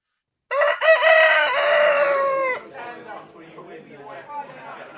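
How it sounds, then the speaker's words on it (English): A rooster crows once, loud and close, in a long drawn-out call followed by softer trailing clucks, on a cold morning outside a store before it opens on Black Friday. "I'm still waiting for the cock to crow."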